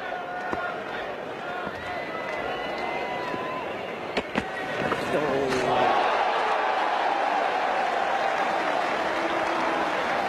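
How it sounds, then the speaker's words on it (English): A big stadium crowd at a one-day international cricket match roars and applauds, swelling into a sustained loud cheer, with scattered shouts and claps under it. "Biggest cheer of all"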